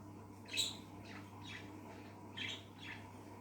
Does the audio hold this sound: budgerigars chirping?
yes